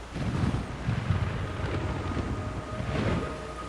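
Steady rumbling rain in Metal Gear Solid 3, a broad wash of noise with low thunder-like swells, heard alone without speech.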